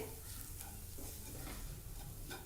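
Masala mixed with ground cashew powder frying on a low flame, a soft steady sizzle with gentle stirring scrapes, quiet and continuous with no voices.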